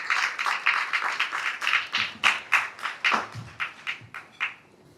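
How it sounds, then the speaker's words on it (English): Audience applause at a Kenyan public gathering for the Kenya Wildlife Service Director General: a dense patter of claps that thins out into a few separate, slowing claps near the end, with some low murmuring underneath. "Makofi kwake tafadhali."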